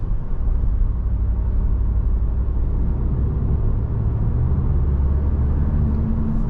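2023 Audi S3 sedan on the road, a constant deep rumble of engine and tyre noise from inside the cabin, loud and even throughout with no talking.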